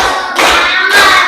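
A few sharp hand claps ring out in a classroom teaching session, two or three distinct loud strikes spaced evenly about half a second apart, close and clear with no talk over them.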